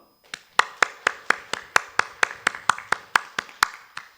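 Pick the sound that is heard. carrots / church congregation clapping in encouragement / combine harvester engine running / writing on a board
church congregation clapping in encouragement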